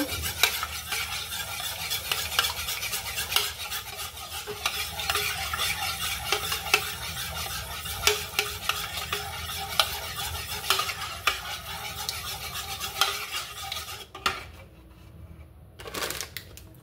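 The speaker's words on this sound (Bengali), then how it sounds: "ডিমগুলোকে ভালো করে গুলিয়ে নেব" Eggs are whisked briskly in a bowl, a fast, continuous rhythmic clatter of utensil against the bowl lasting well over ten seconds, then a brief pause near the end before a couple of final strokes.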